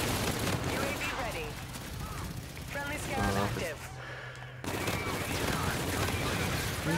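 Rapid gunfire from the Bosozoku, an epic weapon in Call of Duty: Infinite Warfare, crackles in dense bursts amid game noise, briefly dropping off before resuming; a voice speaks over part of it.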